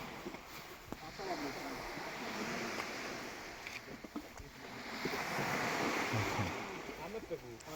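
Sea waves wash onto a beach at night during a fishing outing, a steady broad roar of surf mixed with wind buffeting the microphone, with occasional voices in the background.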